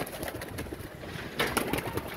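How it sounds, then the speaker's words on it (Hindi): Pigeons at a bakery owner's loft coo in soft, low repeated calls over a steady bed of background noise, with a brief livelier burst of bird activity partway through. "ये मुस्तफ़ा भाई के बड़े मशहूर कबूतर हैं जी, बेकरी वाले।"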